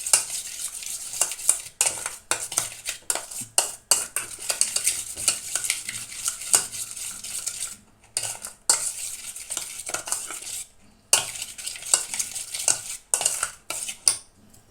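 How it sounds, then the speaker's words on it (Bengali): Curd is whisked into buttermilk in a bowl for doi fulki, making rapid rhythmic clattering strokes against the bowl in bursts broken by short pauses. "এবার আমি এটাকে বেশ করে ফেটিয়ে রেখে তার সঙ্গে খানিকটা দই দিয়ে মিশিয়ে"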